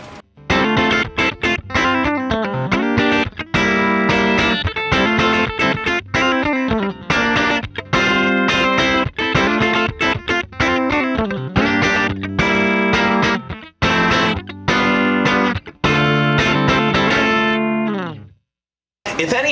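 A Harley Benton Guitar MAX electric guitar plays a lead with a thick, saturated solo tone. Fast, distorted runs of notes fill the passage loudly and without talk, then the final note rings out and fades.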